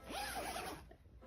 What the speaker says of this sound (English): Zipper usually on this side,